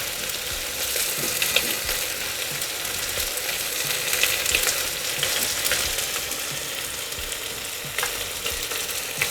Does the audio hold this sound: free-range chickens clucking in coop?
no